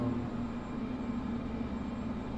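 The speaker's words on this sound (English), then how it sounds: "RPM just decided to quit on me like that." A small aircraft engine during a bush flight in Papua New Guinea, heard from the cabin as a steady, loud, droning hum with a constant low tone and no talk.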